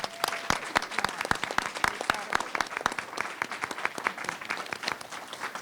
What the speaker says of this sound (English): Again, a wonderful round of applause for them.